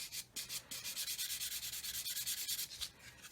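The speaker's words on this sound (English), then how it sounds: "So just lightly sanding, just to remove the seams." Fine sandpaper rubs lightly over the seams of a 1/48 scale plastic Typhoon Mk.1b model kit in quick, even back-and-forth strokes, a soft, close, rhythmic scratching with no voices.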